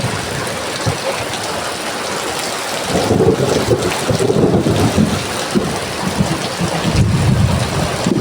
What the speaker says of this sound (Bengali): তোমরা শুনতে পাচ্ছ কিনা দেখো বিদ্যুৎ দিচ্ছে।